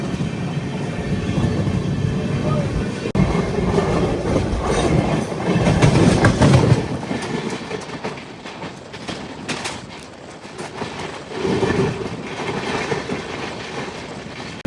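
Heard from on board, the Pinakini Super Fast Express runs on its rails with a loud, rumbling roar and rhythmic clickety-clack from the wheels. It eases briefly, then swells again, with no voices.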